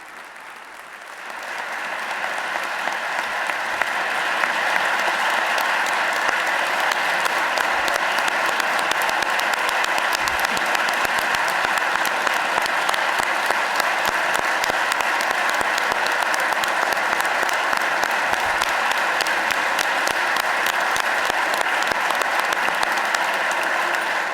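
An audience at a Pennsylvania governor's 2026-27 budget address breaks into sustained applause, building quickly to a loud, steady wash of clapping that continues without letup.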